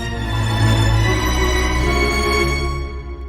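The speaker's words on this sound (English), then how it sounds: "see what that sounds like with a very bright oboe" Bright oboe carries a sustained melody with trills over low, thick orchestral backing, full and close for a few seconds before fading slightly at the end.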